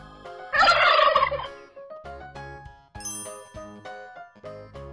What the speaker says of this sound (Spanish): Papá pavo.